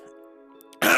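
A single throat clearing, loud and close, bursts out abruptly near the end after a stretch of quiet low hum, from someone still recovering from a sore throat.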